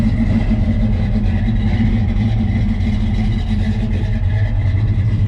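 A 1970 Chevrolet C10 pickup sits idling nearby, its engine giving a steady, loud low rumble through an exhaust tip angled out to the side, with no voices over it.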